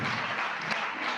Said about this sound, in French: Acclame bien, acclame bien. Je dis tiens, acclamez.